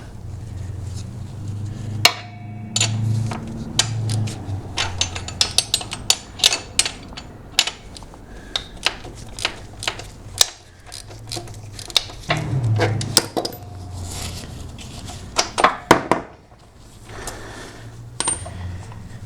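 A spanner works on the rear shock linkage bolt of a Suzuki DR650 motorcycle, making repeated sharp metallic clinks and ratcheting clicks. The clicks come in irregular bursts over a low background hum.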